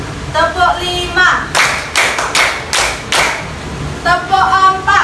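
Schoolchildren in a classroom clap their hands together in five sharp, loud bursts, evenly spaced over about two seconds, with an adult voice speaking before and after the claps.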